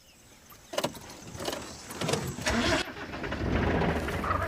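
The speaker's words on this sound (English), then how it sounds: "Turning on the car is enough to nudge him awake." A vehicle parked near a sedated wild dog in African grassland starts up, with a few clicks and a brief crank before the engine catches and settles into a steady, close idle.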